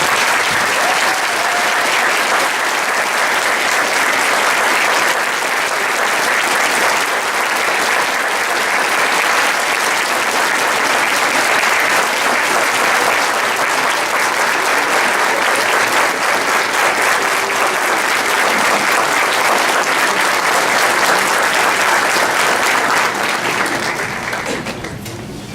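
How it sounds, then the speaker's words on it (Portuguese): Audience at a bar association swearing-in ceremony for new lawyers gives a long, warm round of applause, dense and steady clapping from many hands sustained for over twenty seconds before tapering off at the end. "peço-lhes uma calorosa, uma grandiosa salva de palmas"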